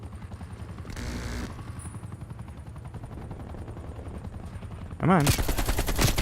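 An AK assault rifle fires in a video game, loud bursts of automatic gunfire in two clusters with a sustained rattle near the end, while a voice speaks briefly over it.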